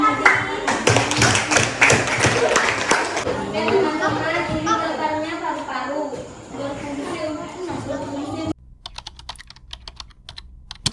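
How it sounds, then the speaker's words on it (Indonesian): A classroom of grade 8 students claps for a student group after its presentation: a burst of dense, fast clapping for about three seconds, then a teacher's voice talking, with scattered taps afterward. "Beri tepuk tangan untuk kelompok"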